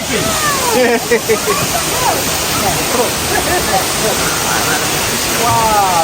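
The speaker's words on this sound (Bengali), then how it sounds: "আমি ঝর্ণা তো পুরাই নিতেছি" A rushing waterfall roars steadily nearby while people talk over it, their voices mixed into the constant splashing water.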